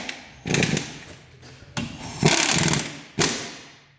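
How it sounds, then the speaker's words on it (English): Ingersoll Rand 90-degree impact tool driving a front strut bolt on a Toyota RAV4, heard as several short, close hammering bursts separated by brief pauses, with no talking. "this Ingersoll Rand 90-degree impact is probably one of my favorite tools to use"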